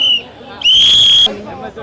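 A person gives shrill whistles among CSK cricket fans, a short blast followed by a longer, louder sustained whistle, with crowd babble in the background.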